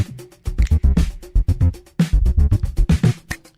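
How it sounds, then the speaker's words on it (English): Choppy music lurches through abrupt shifts in tempo, time signature and style, with bursts of percussive hits and tones changing pace and character every moment. "It's constantly changing tempos from time signatures and musical styles"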